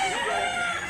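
A brief rooster crow rises at a chicken market in Consolacion, Cebu, one close, strained, quavering call lasting under a second, with a crowd murmuring behind.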